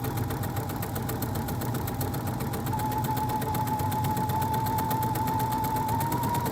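A sewing machine runs steadily, stitching Christmas fabric strips onto a small quilted ornament trivet, its rapid even needle rhythm and motor hum continuing close and loud throughout without pause.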